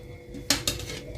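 Two quick clinks of a utensil against a bowl while Mughlai paratha filling is mixed, faint and close against a low background hum.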